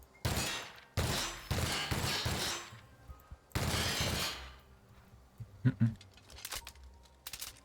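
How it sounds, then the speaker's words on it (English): Gunfire from The Outer Worlds blasts at a lock in several loud bursts of rapid shots, separated by brief pauses, followed by smaller clinks and pops as the volleys fade. "Should I shoot this lock?"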